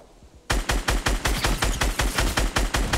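After a brief quiet moment, a loud, close volley of rapid, evenly spaced gunshots rings out in Fortnite Battle Royale gameplay, continuing steadily to the end.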